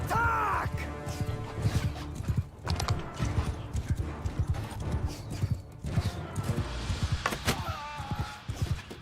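Horse archers gallop across the battlefield in Mount & Blade 2: Bannerlord, with dense, rapid hoofbeats and a horse's whinny near the start, loud and close amid scattered combat clatter.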